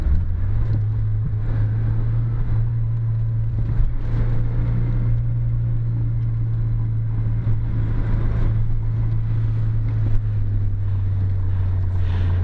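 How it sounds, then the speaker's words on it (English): Toyota AE86 driving a mountain road, a steady low engine and road drone throughout with faint intermittent knocks from the front suspension rattling beneath the constant rumble. "You can hear that front suspension rattle there."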